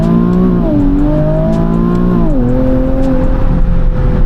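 A Nissan 370Z Nismo engine, heard from inside with the windows down, revs loud and close, its pitch climbing and then dropping between gear changes, with no one talking.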